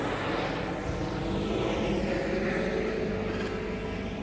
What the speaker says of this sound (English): Oh, it's an helicopter.